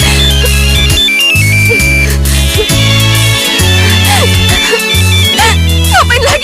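A phone rings over and over in a bright electronic tone, the rings repeating in steady bursts with brief gaps, loud and close, while voices speak faintly beneath.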